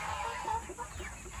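Chickens on a farm cluck softly in the near background, a short stretch of low murmuring calls.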